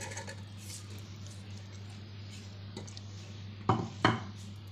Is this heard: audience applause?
no